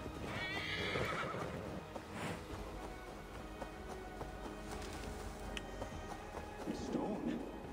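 Horse hooves clip-clop and a horse neighs in Assassin's Creed Valhalla, loud and close, with hoofbeats running steadily throughout and a voice talking over them.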